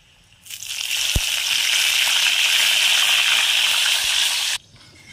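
A loud burst of sizzling as turmeric and salt water is sprinkled onto banana chips frying in hot oil, a steady hissing roar for a few seconds that cuts off abruptly.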